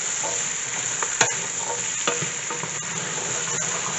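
Seasoning being stirred into boiled chana in a pot for a Guyanese dish, with soft scraping strokes and a faint sizzle, several brief louder clinks of the spoon standing out, no voices.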